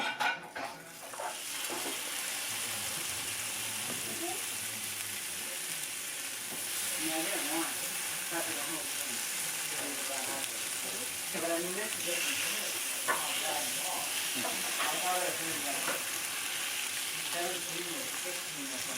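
Steady, close sizzling of chicken frying in a pan coated with olive oil, with occasional scrapes and stirring and a voice talking intermittently over it.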